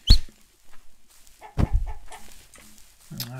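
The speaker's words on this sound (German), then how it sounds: "Guck mal, hier sind schon wieder diverse Küken ausgebrochen." Chicks in a Minecraft-like block game give short clucking and peeping calls, several brief bursts scattered over a few seconds, fairly close with quiet gaps between.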